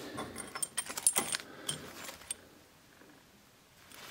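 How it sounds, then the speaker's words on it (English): A bunch of keys jangling inside an abandoned millionaire's mansion, close and metallic, with rhythmic clinks for about two seconds before dying away to quiet room tone. "Many keys around the whole mansion actually."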